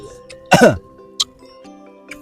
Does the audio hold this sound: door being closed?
no